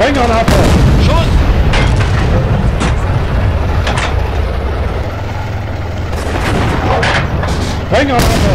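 High-explosive shells fired from a tank gun in Steel Fury, Kharkov 1942, sharp heavy reports at the start and end over a droning engine and gunfire, with crew voices calling out between them.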